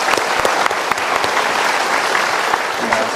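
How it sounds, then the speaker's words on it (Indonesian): Studio audience applauding at a motivational talk show, a loud, dense wash of many hands clapping close by, sustained evenly across the whole stretch with a few sharper individual claps standing out. "Kita berikan tepuk tangan untuk mereka."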